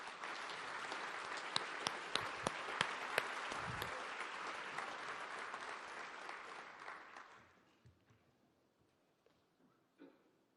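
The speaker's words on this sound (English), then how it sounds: "Let's give the applause to the Holy Father." An audience at the FAO Headquarters in Rome applauds the Pope, a dense burst of clapping with a few sharp claps that swells for several seconds, then fades into scattered claps and near quiet.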